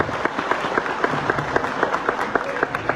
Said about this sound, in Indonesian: Tepuk tangan untuk penabur yang ini